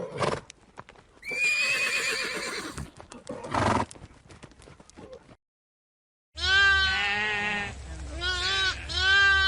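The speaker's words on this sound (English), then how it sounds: "Horse." A horse whinnies in several loud, high, quavering neighs, with clip-clop hoofbeats and scattered farm noises in the first half, then a brief silence before another long, rising-and-falling whinny.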